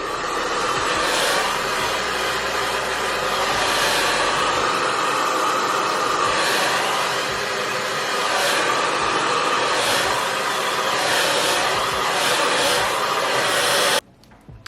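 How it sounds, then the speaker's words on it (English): A steady, loud whooshing hum of a blow dryer runs continuously for most of the clip, then cuts off abruptly near the end. "Then you want to take your blow dryer."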